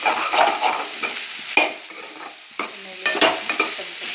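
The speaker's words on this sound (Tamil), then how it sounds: "எண்ணெயிலே நீங்கள் வந்து பாவக்காய் வதக்குறீங்க" Bitter gourd sizzles and fries in hot oil while being stirred, with sharp scraping clatters of a utensil against the pan at intervals.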